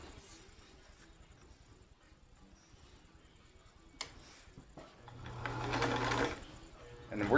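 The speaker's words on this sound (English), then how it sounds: "And then we're just going to zigzag it." A Kenmore sewing machine fitted with a Q-foot zigzag-stitches very stretchy sports mesh, its motor whirring quietly at first, then building into a louder, steady running hum toward the end.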